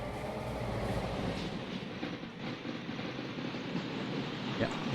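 A freight coal train in the Trainz railway simulator rumbles along steadily at low speed, a continuous mid-level roar of wheels and rails with no clear breaks and no talking.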